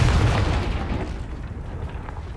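Confringo blasting curse explosion in Hogwarts Legacy, a loud single boom with a deep rumbling burst at the start that decays into a fading crackle over about two seconds.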